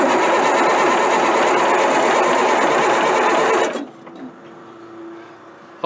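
A deuce and a half military truck with fuel problems cranks steadily for several seconds with a fast, even, loud whirring chug, then stops abruptly, leaving quiet.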